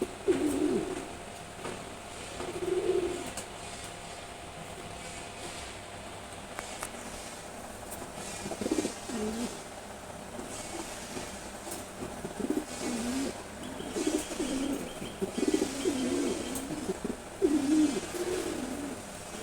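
A pair of red checker pigeons coo repeatedly, their low throaty calls coming in several close bursts spread over a long stretch with a faint background hiss between them.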